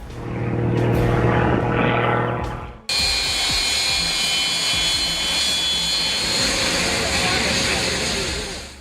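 An Extra 300L aerobatic plane at full throttle over an airport, a loud roaring engine swelling as it sweeps past, then cutting abruptly to a steady, sustained engine drone.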